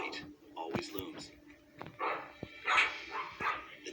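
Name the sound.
dogs barking at a dog rescue kennel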